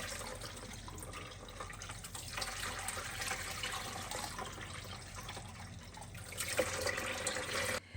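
Cold tap water running over rice in a small sieve in a home kitchen, a continuous soft splashing rush that swells slightly near the end, then cuts off abruptly.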